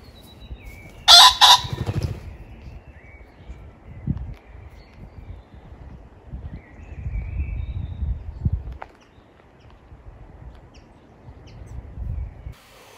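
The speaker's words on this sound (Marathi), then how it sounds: "ह्याला फसानी म्हणतात त्याच्यात म्हणजे फसन तो बर्ड नेचरमध्ये दिसतो आहे" A pheasant outdoors in Finnish springtime gives one loud, brief burst of harsh calling near the start, followed by quiet rustling and faint background noise.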